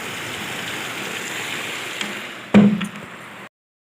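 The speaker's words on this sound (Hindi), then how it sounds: "देखिए इतना जोर बारिश, पानी एकदम से बारिश आ रहा है" Heavy rain pours down in a dense, steady hiss, with a few sharp taps near the end before it cuts off abruptly.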